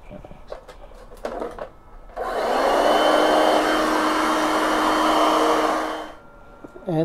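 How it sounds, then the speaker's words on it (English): An air compressor inflator runs off a DieHard power station with a steady, buzzing motor drone that starts abruptly, holds for about four seconds and cuts off, with faint voice-like sounds around it. "The compressor still runs."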